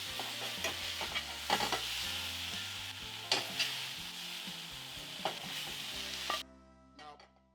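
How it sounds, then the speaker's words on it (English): Mushrooms sizzle and fry in a hot pan with steady crackling, as a utensil scrapes and stirs them toward a container. The sizzle cuts off abruptly near the end, leaving faint clinks. "Now remove these mushrooms into the container with the beef."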